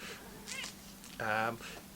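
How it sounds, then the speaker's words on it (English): A domestic cat meows twice close by, a short call followed by a louder, longer drawn-out meow, over a quiet indoor room tone. "Cat's commenting on that one."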